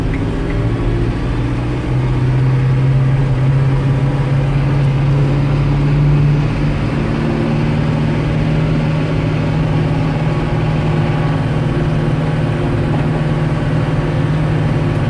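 A Renault Celtis 456 RX tractor engine runs steadily with a deep, loud, low drone and a constant hum, close by and continuous with no talk over it.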